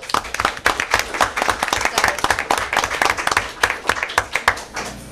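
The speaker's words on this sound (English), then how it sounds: "So let's give Tom a nice round of applause." An audience at a town council meeting breaks into a round of applause, dense irregular hand claps filling the room at moderate loudness for the whole stretch with no speech over it.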